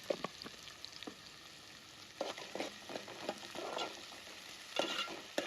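Onions fry in a pan with salt, sizzling softly while a spoon stirs them in scattered scraping bursts close by, with no talk.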